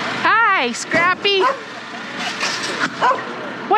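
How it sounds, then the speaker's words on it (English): A dog at a scrap yard lets out a few short, high yips and whiny barks, close and fairly loud, broken by brief pauses with faint background noise between them. "what you barking about?"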